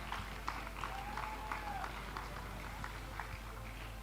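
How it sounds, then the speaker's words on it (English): An audience at a secondary school awards ceremony applauds Key Stage 3, a faint, steady patter of many hands clapping heard from some distance. "A round of applause for Key Stage 3, please."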